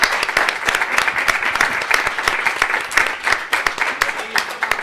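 Audience applause for the organizers of Agosto Clandestino, a literary event, with dense sharp claps sustained for about five seconds at moderate volume, fairly close, with no one speaking over it.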